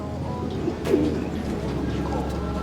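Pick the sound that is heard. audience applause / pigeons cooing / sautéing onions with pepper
pigeons cooing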